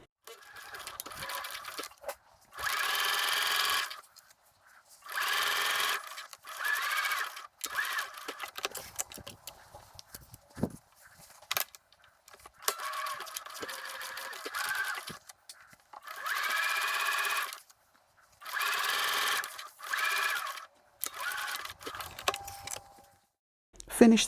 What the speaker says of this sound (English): match the front and back of the dress along the shoulder seams. Sew again at 5/8 of an inch.